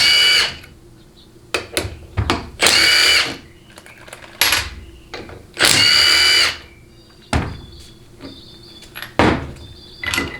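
An impact tool or drill works 13 mm bolts off a 1995 4L60E transmission in repeated loud whirring bursts of one to two seconds, separated by clinks and handling noises.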